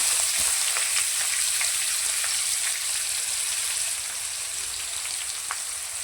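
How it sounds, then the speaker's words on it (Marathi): Onion sautés in hot oil with fried garlic in a pan, giving a close, steady crackling sizzle with small spitting pops throughout, with no voices. "तर त्याच्यामध्ये कांदा परतून घेऊया"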